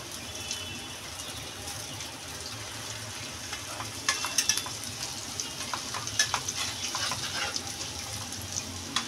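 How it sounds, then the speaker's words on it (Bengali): Jute leaf fritters fry in hot oil with a steady, close sizzle and bursts of crackling as they are stirred in the pan. No one speaks. "এটা এখনো হয়নি ভালো করে, একদম বড়াগুলো বেশ সুন্দর লাল লাল হবে"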